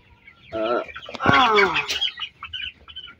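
Twenty-day-old broiler chickens, a flock prone to gout, cluck nearby in a few short, overlapping calls that rise and fall over a quiet background.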